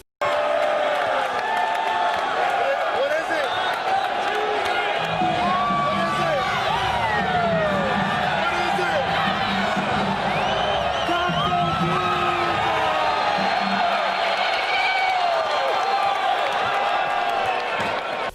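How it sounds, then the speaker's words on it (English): Sports fans in an arena cheer and whoop loudly and continuously, a dense crowd roar with shouts on top and a low rumble swelling through the middle stretch. "Here is LeBron and some other fans in a game cheering for Taco Tuesday"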